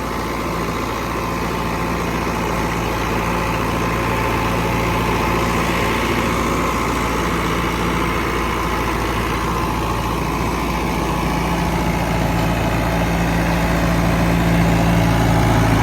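An Agri Master 804 tractor pulling a super seeder runs with a loud, steady diesel drone and deep low hum, holding an even heavy-engine note throughout with no break.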